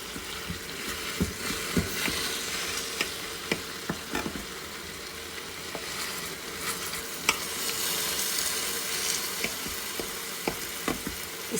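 Persian kebab cooks on a tawa over medium heat with a steady, moderate sizzle. Scattered sharp clicks and taps from a utensil touching the pan break through it, and there is no talk.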